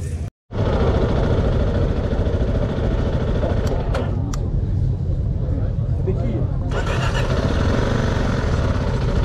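A Zontes 310T2 motorcycle engine runs with a steady, close, continuous drone that holds at an even level throughout, with a few brief sharper ticks partway through.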